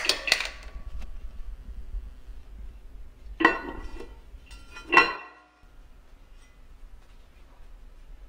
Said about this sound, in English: we'll just give it a little bit of a stir before we start to cook it